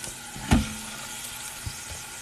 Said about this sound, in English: I'm going to add my meat and I'm going to brown it